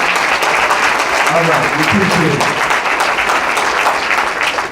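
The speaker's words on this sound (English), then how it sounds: "Let's give her a round of applause." Loud, steady applause from an audience at a ceremony, dense clapping filling the whole stretch, with a man briefly starting to speak over it.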